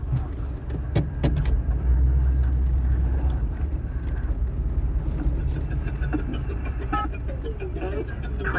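A 1991 Chevy Suburban riding on 38-inch Super Swamper tires cruises along, its engine and road rumble a steady, loud low drone throughout, with occasional rattles and clunks from the cab.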